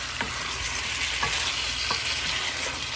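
Plantains fry in a pan with a steady broadband sizzle, punctuated by a few sharp stirring or turning clicks at regular intervals, close and fairly loud with no voices.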